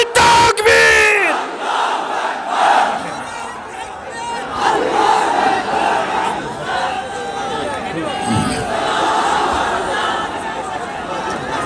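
A large crowd at a rally answers a takbir call with a loud massed shout that stays at a steady roar of voices, layered chanting and hubbub throughout.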